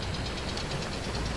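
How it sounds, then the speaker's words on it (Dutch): Vehicle engine idling steadily in Far Cry 2, a close, even low rumble with a light repeating knocking pulse, continuous throughout the short stretch with no voices. "Deze motor maakt trouwens ook echt zo'n heel fijn geluid."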